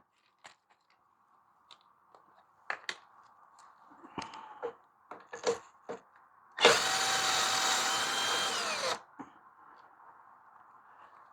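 Power tool whirring as a socket driver removes the frame bolts on a free push lawn mower, a steady burst of roughly two seconds after scattered clicks and clanks of handling, close and fairly loud.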